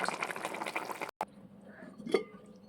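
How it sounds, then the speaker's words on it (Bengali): Fish curry with fried fish pieces simmers in a pot, bubbling and hissing steadily for about a second before settling into softer, quieter bubbling with an occasional pop. "এবারে 2 মিনিট ফুটিয়ে নেব"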